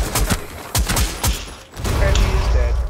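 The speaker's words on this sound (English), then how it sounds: "Oh my god, there's so many explosions." Rapid bursts of gunfire and booming explosions from the Rainbow Six Siege video game crack out loudly in quick succession, then a steady roar of blasts and rumble follows.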